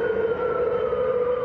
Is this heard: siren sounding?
yes